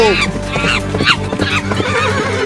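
A cartoon horse gives a loud, close whinny with rising and falling squeals, layered over a busy animated soundtrack with music and effects.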